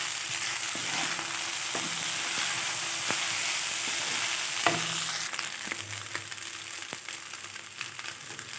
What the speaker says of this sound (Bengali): পাস্তাটাও সব কিছু সবজির সঙ্গে মিক্স করে দিলাম। এখানে এই যে ডিমটাও দিয়ে দিলাম, দিয়ে এটাও ভালো করে মিশিয়ে নেব।